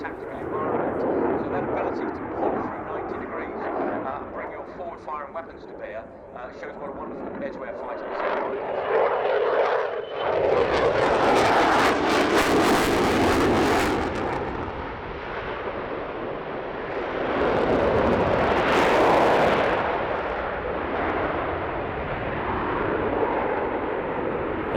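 A military jet flies aerobatics at an airshow, performing a high-G turn and a high-alpha barrel roll. Its engine roar swells and surges, loudest in two peaks, continuous and fairly close, with a commentator talking over it.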